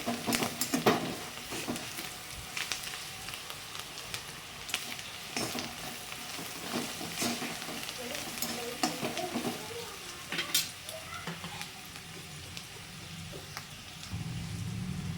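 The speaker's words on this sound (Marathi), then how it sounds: "छान परतून घ्यायचं" Rice for raw mango pulao being sautéed and stirred in a pan, giving a steady crackling sizzle with scraping stir strokes throughout, moderately loud and close, with no talking.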